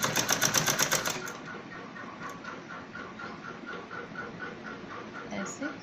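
Electric sewing machine stitching fabric for a child's romper suit, starting with a fast, loud burst of rapid needle strokes that then gives way to a quieter, steady mechanical rhythm.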